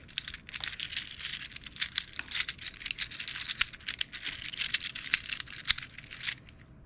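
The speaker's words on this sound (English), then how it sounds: "It makes like a kind of clanking, clicking sound when you turn it." A plastic stim toy from a 61-piece fidget set gives off rapid, close clicking and clanking as it is turned, an irregular rattle of small taps running steadily and fairly faint throughout.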